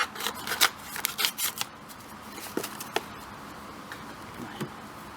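Garden seeds being mixed together with radish seeds by hand, giving soft irregular dry rustling and rattling close by, busier at first and then sparser, with no talk.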